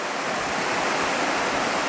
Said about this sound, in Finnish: tuolla menee joki, vesi